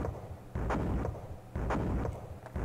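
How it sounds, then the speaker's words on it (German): Artillery in the Amiga game Historyline fires two heavy, booming shots about a second apart, each a punchy blast with a rumbling tail, and nothing else is heard. "Und da wird auch schon gleich geschossen, nämlich... Von unserer dicken Wummer auf die kleine Artillerie von ihm."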